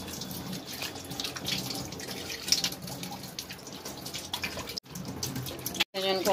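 Rice being washed in a balcony sink under running tap water from a household tank, a loud continuous gush with splashing throughout, briefly interrupted twice near the end.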